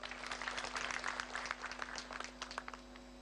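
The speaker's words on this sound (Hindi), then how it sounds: "जो कर रहे हो उनके लिए ताली बजाओ।" An indoor audience at a talk in a factory setting in Patal Ganga, Maharashtra, claps in a dense, sustained round of applause that fades slightly toward the end, heard over a low steady hum.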